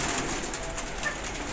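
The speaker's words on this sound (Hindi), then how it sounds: "ਬਹੁਤ ਪੁਰਾਣੀ ਨਸਲ ਦੀ ਕਬੂਤਰੀ ਹੈ" Soft pigeon cooing against a steady hiss of background noise, faint and close, with no voices.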